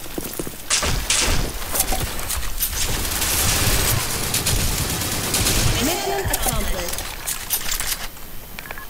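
Rapid bursts of video game gunfire crackle throughout, dense and loud, with thumps mixed in and voices talking over the shooting.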